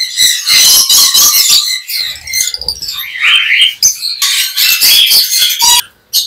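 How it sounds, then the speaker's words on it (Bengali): A pair of lovebirds at the Mirpur bird market gives rapid, shrill squawks and chirps at close range, in dense bursts with brief pauses and a short lull near the end. "মাশাআল্লাহ, এখানে খুবই সুন্দর এক জোড়া ইউইন লাভবার্ড আছে।"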